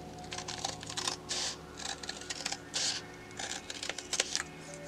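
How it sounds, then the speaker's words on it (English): Scissors snip through paper in a series of short, crisp cuts with brief pauses between them. It is close and fairly quiet, with no voices. "I'm feeling like winging it with some scissors today"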